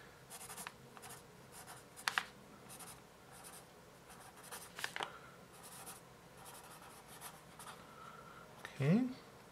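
A Camel HB pencil scratches across paper in quiet, intermittent strokes, and a voice speaks at times over the faint writing.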